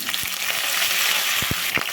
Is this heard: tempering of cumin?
yes